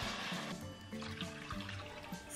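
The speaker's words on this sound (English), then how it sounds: "Add 1 liter of water." Water poured into a pot of fish and taro root curry, a steady, soft running splash that lasts throughout at low volume with no talking.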